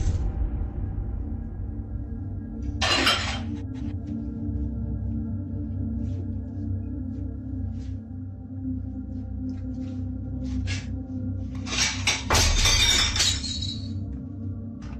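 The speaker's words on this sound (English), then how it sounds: "a cabinet swings open on its own and a plate tumbles out" A ceramic plate falls from a kitchen cabinet and smashes on the counter, two bright crashes of shattering with clinking fragments over a steady low room hum.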